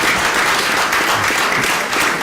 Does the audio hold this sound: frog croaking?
no